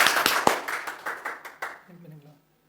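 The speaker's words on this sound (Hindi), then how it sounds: "उससे पहले जोरदार तालियों से स्वागत करेंगे" An audience welcomes a guest at an interview session with a burst of quick, scattered hand claps that thin out and fade after about a second and a half, leaving a faint voice.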